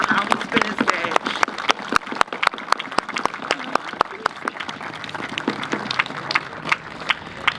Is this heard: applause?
yes